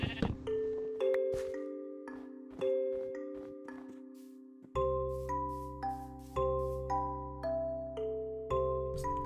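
Repeated Minecraft sheep bleats over a looping musical background, several distinct calls at fairly regular intervals, close and clear.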